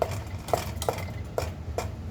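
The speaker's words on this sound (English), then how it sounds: "just kind of stir it around" A spoon scrapes through thick peanut butter fudge mixture in a pot in five steady, evenly spaced strokes, close and fairly quiet with a faint low kitchen hum beneath.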